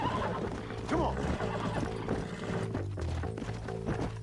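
A horse in Red Dead Redemption gallops with rapid clip-clop hoofbeats and lets out a loud whinny early on, with game music and effects layered underneath.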